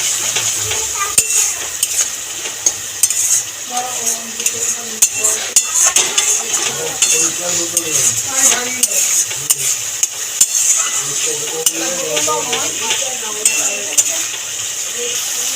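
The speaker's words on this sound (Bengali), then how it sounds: "আমি অল্প করে জল দিয়ে দেবো দিয়ে মশলাটাকে একটুখানি আর একবার ভালো করে কষিয়ে নেবো" Masala for malai katla sautéed with a splash of water, stirred hard in a pan, with a constant sizzle and frequent metallic scrapes and clinks of the spatula, close and loud, no talking.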